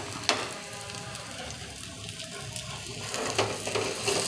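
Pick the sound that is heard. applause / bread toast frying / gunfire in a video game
bread toast frying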